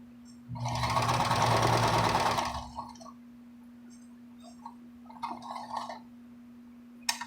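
A sewing machine runs in one steady burst for about two seconds, then a few faint clicks and short whirs follow in a quiet room.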